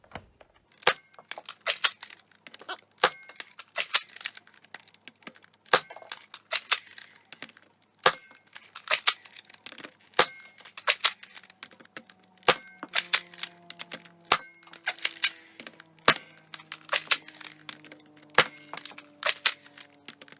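Nerf Rival blaster firing genuine Nerf Rival foam rounds, a string of sharp, close, percussive shots spaced irregularly over about twenty seconds, with no talking.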